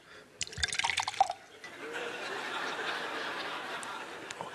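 A comedian on a live stage vocally imitates a sink filling with water: sputtering, drippy bursts give way to a steady, soft rushing hiss, performed close to the microphone.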